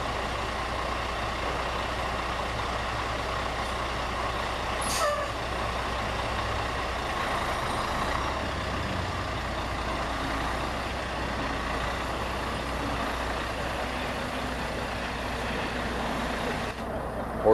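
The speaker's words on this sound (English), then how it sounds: "so then we're backing up" A 53-foot van truck backs up slowly in a steady low rumble of engine drone that holds throughout, with a faint hiss partway through.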